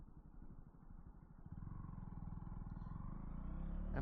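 A 2023 KTM 200 Duke motorcycle rides along with a low, throbbing engine drone that builds gradually as it pulls, heard close from the rider's position with faint wind rush and no speech.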